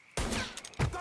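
Gunfire in the video game Mafia 3: two quick loud bursts of shots, close and sharp, with a brief gap between them.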